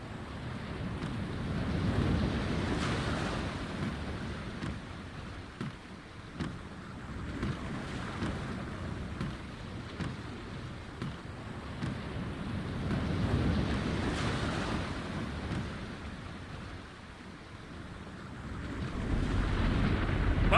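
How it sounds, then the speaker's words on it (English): Storm wind roars steadily over churning ocean waves in the point-and-click adventure game The Longest Journey, a dense, continuous rumbling wash that swells and eases without pause, with no voices. "The storm is closing in."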